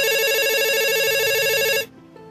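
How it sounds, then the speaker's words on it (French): A household telephone rings loudly in a steady electronic warble during a family's fish dinner, then cuts off abruptly, leaving only faint room sound. "quand soudainement, le téléphone de cette famille sonne."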